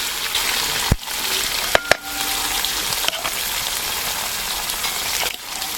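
Chopped onion fries in hot coconut oil in a pan for a Kerala beef roast, giving a steady, close sizzle with a few sharp clicks and scrapes from stirring.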